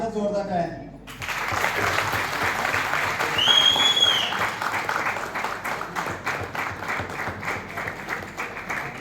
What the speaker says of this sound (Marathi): दोघांसाठी एकदा जोरदार टाळ्या.